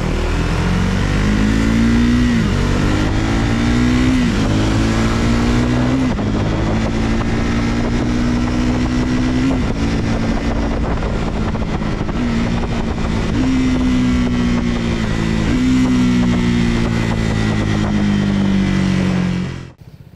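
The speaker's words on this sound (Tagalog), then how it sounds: "The humble thumper sound from its exhaust note is nice" Triumph Speed 400 single-cylinder motorcycle riding steadily on the road, its thumping exhaust note rising and falling through several gear changes, loud and close over continuous wind rush, with no talking.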